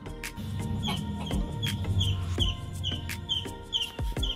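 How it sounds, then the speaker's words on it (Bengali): Morning birds call from a rooftop garden in Kolkata, with short repeated chirps and clucking notes coming in steady bursts against a constant background hum, fairly close and moderately loud. "সকালে পাখির ডাক কত সুন্দর লাগে না।"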